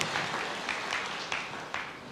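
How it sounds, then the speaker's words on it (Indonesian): A church congregation claps together in steady, moderately quiet applause, with a few louder individual claps standing out. "Berikan tepuk tangan yang meriah."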